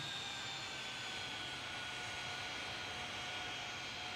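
A Delta Airbus 319 jet taxis in after landing at Raleigh-Durham International Airport in Tower! Simulator 3, giving a steady, distant, faint jet engine whine and roar that holds unbroken over the whole stretch.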